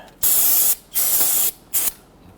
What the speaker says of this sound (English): spray it down with some solvent